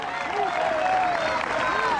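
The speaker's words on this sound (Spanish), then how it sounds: "Le das un aplauso de la alabanza grande al que está vivo." Applause from a congregation at an outdoor church gathering in a park, a dense steady clatter of many hands with voices calling out over it.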